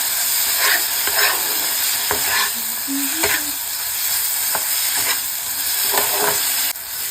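Potatoes frying with spices in a pan, a loud continuous hissing sizzle with periodic scraping strokes as they are stirred; no talking.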